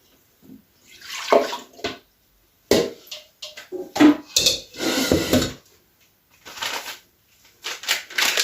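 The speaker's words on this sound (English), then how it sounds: "300 milliliter of my milk. So I'm going to go ahead and add it in here" Milk poured into a bowl while making an easy dessert, heard as several bursts of liquid splashing and pouring with short pauses between them, close and fairly loud.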